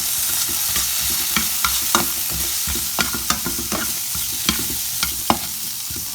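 Vegetables with frozen broccoli and sweet peppers stir-frying in a hot pan, a continuous sizzle broken by regular scraping and tossing strokes of the spatula, close and fairly loud with no talking.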